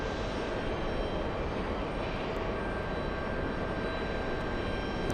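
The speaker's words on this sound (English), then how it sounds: "Let's go for Avianca Cargo, the A330." An Avianca Cargo Airbus A330 jet at JFK airport gives off a steady, loud roar of jet engines that holds for the whole stretch, heard from a moderate distance with no voices.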